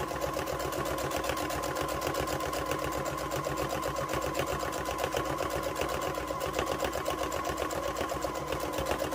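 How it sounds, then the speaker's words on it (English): A sewing machine stitches fabric for a handmade stuffed moose while the material is turned along a drawn line, producing a steady, rapid mechanical chatter with an even rhythm throughout. "I can just turn my material and I hang on to it and kind of turn it as it's sewing"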